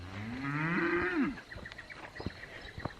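A cow on a farm gives one long, loud, close moo that rises and falls, followed by scattered faint knocks and rustles.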